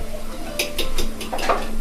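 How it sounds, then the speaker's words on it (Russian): A fork whisks two eggs in a bowl for an eggplant dish, giving a quick series of light clicking scrapes against the dish over a steady background hum. "Добавляем 2 яйца, разбиваем, взбиваем вилочкой"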